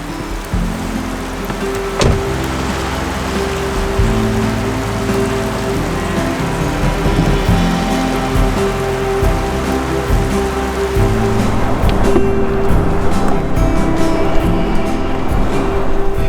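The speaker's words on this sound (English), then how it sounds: "It's sort of a weird combination of sleet and rain and maybe a couple of snowflakes mixed in" Cold rain mixed with sleet and a few snowflakes falls at a wilderness campsite, producing a steady, dense patter on nearby surfaces with a low background rumble, loud and continuous with no speech.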